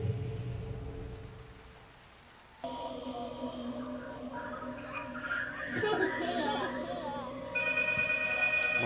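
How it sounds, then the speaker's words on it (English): A mobile phone rings in a room while the horror game P.T. (Silent Hills playable teaser) plays. Steady tonal ring pulses sit among dense, murky game ambience that drops out briefly before swelling again, with speech present. "My phone went."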